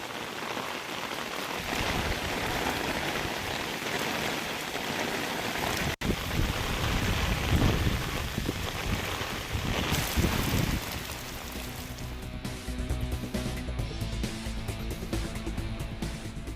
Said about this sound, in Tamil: இந்நிலையில் அப்பகுதியில் திடீரென மிதமான மழை பொழிந்தது